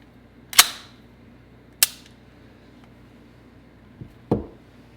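A Kimber KDS9C Rail 1911 9mm pistol gives sharp metallic clicks: two crisp snaps close together early on, then a softer tick and a louder clack near the end as the slide locks back, all close-up in a quiet room.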